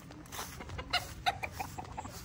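Chickens clucking in a village yard in Tigbauan, Iloilo, Philippines, faint scattered clucks and short calls at a little distance.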